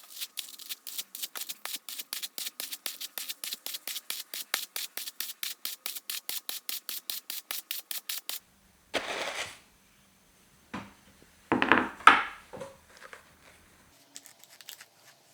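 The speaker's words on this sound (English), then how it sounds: "I'm just gonna hand card that one again." Hand carding of short, soft flax fibre on a vintage spinning setup: a steady run of about thirty quick, even scratchy strokes, close and moderately loud, then a pause and a few irregular rustling brushes.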